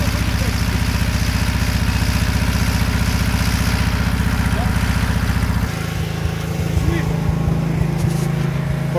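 A 56-year-old ZAZ-965 with a V-shaped engine idles with a steady, throbbing mid-range drone that shifts to a rougher, lower note partway through.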